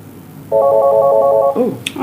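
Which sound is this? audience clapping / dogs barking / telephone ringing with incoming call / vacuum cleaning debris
telephone ringing with incoming call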